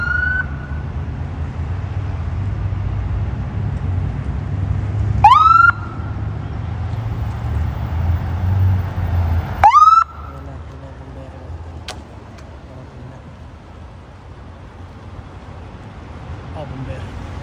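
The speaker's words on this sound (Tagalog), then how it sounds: "Ambulansya dumating na." An EMS ambulance siren arriving, with two loud, rising wails that sweep up sharply and then cut off, set over steady street rumble and traffic noise.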